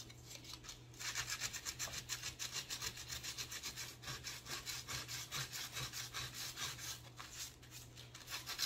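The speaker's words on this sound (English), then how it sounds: "I just want to kind of sand this down a little bit" Hand sanding a wooden piece with cheap Dollar Tree sandpaper for a Christmas DIY craft, a steady rhythmic scraping of rapid back-and-forth strokes, close and fairly loud, continuing for several seconds after a brief pause at the start.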